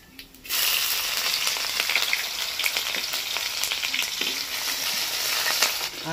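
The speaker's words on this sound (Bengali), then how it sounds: "দেওয়ার পর দিয়ে দিচ্ছি রসুন কুচি আর কাঁচা লঙ্কা কুচি।" Chopped garlic and green chilli hit hot oil in a frying pan, giving a loud, continuous sizzle and crackle with light stirring scrapes throughout.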